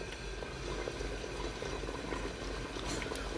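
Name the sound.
liver pirozhki frying in hot oil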